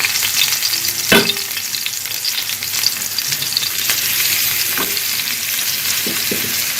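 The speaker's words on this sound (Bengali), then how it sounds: "মাছগুলোকে আমি ভালোভাবে ভেজে নেব।" Koi fish coated in turmeric, chili, salt and coriander sizzle steadily in hot oil in a pan, with a constant close hiss broken by occasional sharp pops and spatters, and no voices.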